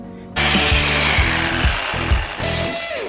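A power tool cuts around the top of a plant pot to remove its base, a loud steady grinding whine starting abruptly after a moment of quiet, with rhythmic low thumps and a slight pitch change near the end.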